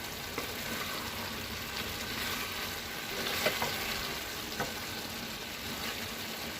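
Basmati rice kushka cooking in a pot over a low flame after a stir, giving a faint, steady simmering hiss broken by a few soft scrapes of the spoon.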